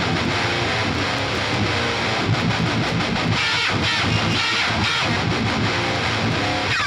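Heavily distorted djent rhythm guitars from an album stem pack, dense, loud chugging riffs with tight palm-muted stabs and syncopated rhythmic bursts, played alone with no voice over them.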